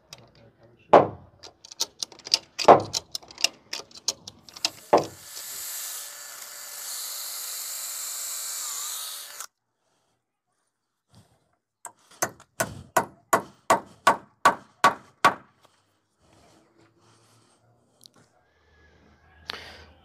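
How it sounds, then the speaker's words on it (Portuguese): Sharp, repeated knocks of a hammer hitting eucalyptus wood while building a hip roof, a cluster of blows, a stretch of whirring noise, then a steady run of evenly spaced strikes. "Dá uma martelada nela"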